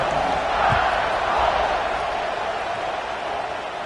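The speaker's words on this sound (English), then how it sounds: "this crowd is buzzing after that last score" A simulated stadium crowd in the video game College Football 26 keeps up a steady, dense roar and buzz right after a score, loud and continuous without breaks.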